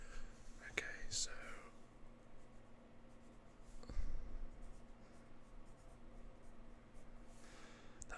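A pencil drawing a map of Arizona on paper makes soft, continuous close-up scratching strokes, with quiet whispering heard alongside.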